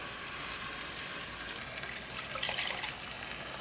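Water poured into a cooking pot while making brinjal rice, a steady close trickle and splash with a brief louder gush near the end, no talk.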